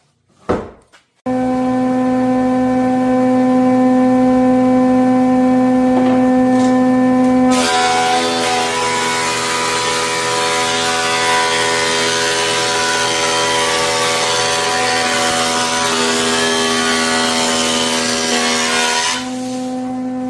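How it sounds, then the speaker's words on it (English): A thickness planer starts up with a steady whining hum, then bites into hardwood with a loud continuous grinding roar before easing back to idle. "So let's run it through the planer and let's get to that inch."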